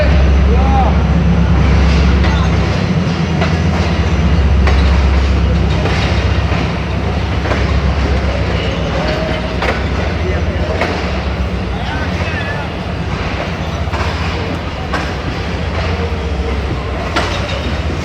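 A train at a railway station on the Faisalabad to Lahore route, with a steady low rumble and hum of rail cars across the whole stretch and scattered clanks under light background voices.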